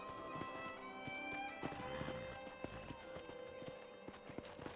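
Horse hooves clip-clopping on the ground in the Red Dead Redemption video game, a steady walking rhythm of distinct close thuds with light ambient background, no one talking.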